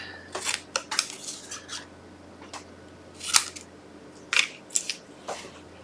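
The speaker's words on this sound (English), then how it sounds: "I'm just going to grab my scissors and I'll take that out a bit" Scissors snipping through stiff cardstock, a handful of crisp cuts in irregular bursts with quiet gaps between, close up.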